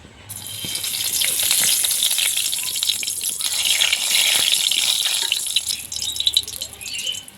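Whole cloves, cardamom and a cinnamon stick hit hot oil in a pan, giving a loud, continuous crackling sizzle that surges and rattles for several seconds, close up and without any talking.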